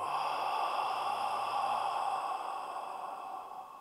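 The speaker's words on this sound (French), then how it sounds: "on inspire, on retient et on expire" A long, audible exhale, a slow breath out with airy sighing quality that fades gradually toward the end, close and clear with no speech.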